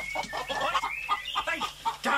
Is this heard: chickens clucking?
yes